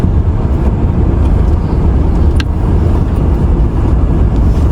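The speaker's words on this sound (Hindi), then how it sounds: "तो स्ट्रेट लाइन में चला दो गाड़ी" A Mahindra Scorpio N 4x4 SUV drives steadily in a straight line with a loud, constant engine and road rumble, no change in pace and no talk.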